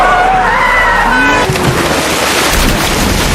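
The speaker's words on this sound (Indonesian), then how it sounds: "Tiba-tiba kecelakaan menimpa bus yang mereka tumpangi hingga terjatuh ke dalam sungai." A bus in an accident skids and plunges into a river, with a loud screeching skid giving way to a heavy rushing crash and water surge.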